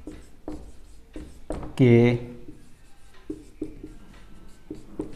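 Scratchy strokes of writing on a board during a maths lesson, a series of short scrapes with one longer stroke, while someone speaks over them.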